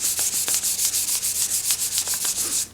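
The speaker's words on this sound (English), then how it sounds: "just keep sanding until you hit the tape" Rhythmic back-and-forth hand sanding of resin on a surfboard, a close, steady scratchy rasp repeating about five times a second with no voices.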